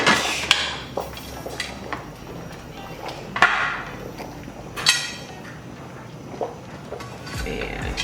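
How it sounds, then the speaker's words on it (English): Metal lids are secured onto boiling water canners holding pots of boiling water: a few sharp clanks and knocks ring out over a steady bubbling, hissing rumble in a kitchen. "We have both the pots of water here boiling in the canners, so we're going to go ahead and secure the lids"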